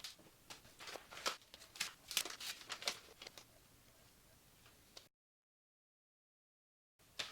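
Careful unwrapping of an eBay parcel: crinkly rustles and soft tearing of packaging, quite close, in uneven bursts, then a gap of silence before a brief rustle returns.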